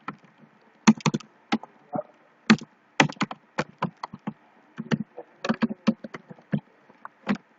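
Keys tapped on a computer keyboard while entering a Python command at a command prompt, irregular clicks in short bursts and single strokes, close and clear with no talk.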